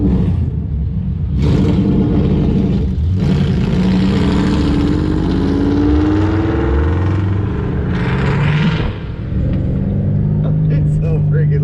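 Ford Coyote V8 swapped car with open headers accelerating hard and spinning its tires, a loud close rumbling roar climbing in pitch with harsh bursts, steady throughout.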